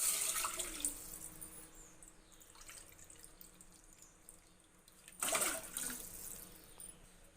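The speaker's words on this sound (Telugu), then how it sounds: "సేమ్ అదే కప్పుతో 2 కప్స్ వాటర్ పోసుకోవాలండి." Water is poured into a kadai while making semiya kesari, a quiet splashing and trickling with two louder bursts of pouring near the start and end.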